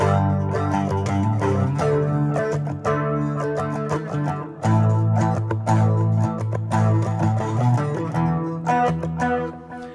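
Electric guitar solo played through distortion and effects, melodic bends and sustained notes landing on chord tones, loud and continuous with brief pauses between phrases.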